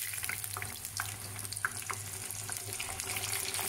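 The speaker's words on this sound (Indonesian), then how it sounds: "Mari kita menggoreng." Steady sizzling and spattering of oil as seasoned tempeh and tofu fry in a pan, with occasional pops and crackles over a low background hum.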